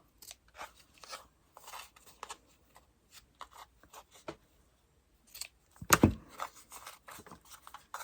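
Scissors snipping and trimming pieces off homemade Valentine mantel decorations, with short irregular cuts close by, a louder crunching cut near the middle, then more quick snips.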